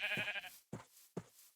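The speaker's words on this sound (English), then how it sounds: "There's the other sheep." Minecraft sheep bleat three times in quick succession: one drawn-out baa followed by two shorter ones, clear and close with no talk.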